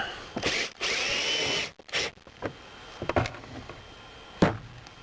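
A power drill drives screws into a shed roof during a hole repair, with one long loud whir followed by several short bursts and knocks, close and alone.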